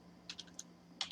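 A handful of computer keyboard keystrokes during data entry in retail billing software, about five soft clicks spaced irregularly with a firmer final press, close and quiet over a faint steady hum, with no talking.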